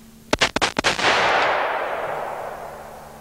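Several sharp handgun shots fire in quick succession near the start, roughly four or five loud cracks, followed by a long, broad echoing decay that fades slowly across the rest of the moment.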